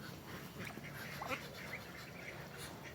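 Farm ducks quack faintly in the distance, a few soft calls rising over a steady outdoor background hum.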